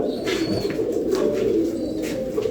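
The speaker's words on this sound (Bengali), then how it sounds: "খুব সুন্দর একজোড়া পাকিস্তানি হাই ফ্লায়ার কবুতর" Pakistani high flyer pigeons, a golden male and a teddy female, coo softly and repeatedly at close range in a loft, with low throaty murmurs running continuously and no talk.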